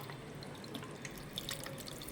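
Cooled herbal hair oil is strained through a filter, giving faint, close trickling with scattered light drips in a quiet room.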